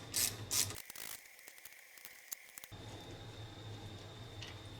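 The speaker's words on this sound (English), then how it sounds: "So now I'm going to use this T20 Torx." A T20 Torx driver turning out bolts on a Dewalt router, close faint ratcheting clicks and light mechanical scraping over a low hum that briefly drops away.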